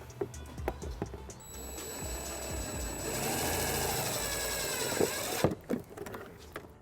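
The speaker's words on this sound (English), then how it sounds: "We're going to use the provided self-tapping screw and a 1/4-inch socket." A self-tapping screw driven with a 1/4-inch socket while grounding a trailer wiring harness on a 2019 Dodge Grand Caravan, giving a steady mechanical whir of a few seconds that ends abruptly, followed by a handful of clicks and clunks.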